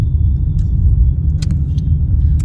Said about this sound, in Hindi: देखिए कितना ट्रैफिक है